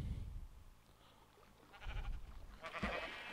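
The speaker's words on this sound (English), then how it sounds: "Two sheep will drop down here, like that." Sheep bleat inside a Minecraft breeding farm, with short bleats rising in the second half over a soft, low background, fairly faint and with no speech.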